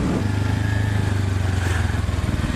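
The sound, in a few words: Kawasaki Ninja 400 motorcycle stock exhaust pipe sound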